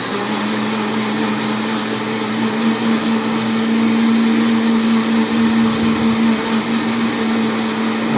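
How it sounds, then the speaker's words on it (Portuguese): A kitchen blender runs steadily, blending a cooking mixture during a home cooking class, with a loud continuous motor whir and grinding hum that holds for the whole stretch without pause. "Agora nós vamos bater tudo isso no liquidificador."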